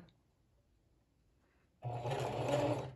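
A sewing machine runs a forward stitch through ski muff fabric, starting after near-silence at about 1.8 seconds and then whirring steadily and loudly up close until the end.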